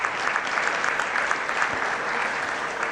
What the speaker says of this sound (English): A huge round of applause for their efforts.